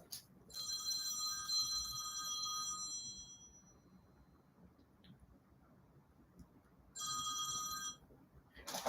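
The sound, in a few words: phone ringing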